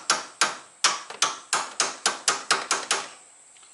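Hammer blows ring out while a coilover shock and lowering spring are fitted to an AE92 Toyota Corolla, about a dozen sharp, loud metallic strikes in a fairly steady rhythm with brief ringing decays, close by and without talk.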